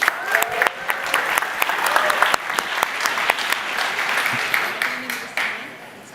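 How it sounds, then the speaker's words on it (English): Audience applause at a full-day tech event in San Francisco, loud close clapping with sharp individual claps and crowd murmur, holding steady for several seconds before easing off. "Round of applause."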